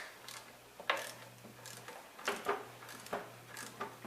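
A socket wrench loosening throttle body bolts on a 2005 Chrysler Town and Country, with bursts of close ratcheting clicks and metallic ticks in short irregular runs over a faint steady hum.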